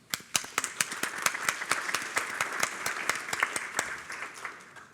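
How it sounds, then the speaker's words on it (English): Sparse, thin applause from a small audience at a riverway summit, a few dozen distinct hand claps rattling over five seconds without cheering, sounding half-hearted and uneven. "Give yourselves a round of applause."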